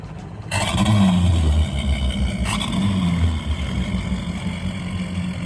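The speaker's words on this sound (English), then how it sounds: "Sal, start your engines." Powerboat engines start up with a sharp burst, then settle into a loud, steady rumble, with a second surge partway through as another motor fires and revs; no voices.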